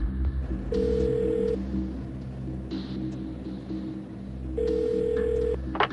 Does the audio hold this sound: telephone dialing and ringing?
yes